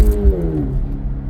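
A quick car pulls away from a standstill without reaching full throttle, its engine note rising steadily in pitch as it accelerates, loud and close with a deep rumble underneath.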